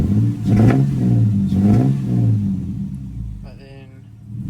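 A car engine with a misfire revs up and down twice in close-up, each rise in pitch broken by a sharp blip, before settling to a rough, uneven idle.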